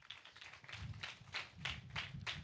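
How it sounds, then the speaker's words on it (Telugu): A church congregation claps together in a steady rhythmic beat at a Sunday sermon, quiet and somewhat distant, about seven or eight even pulses over a couple of seconds. "Just give claps to Jesus Christ."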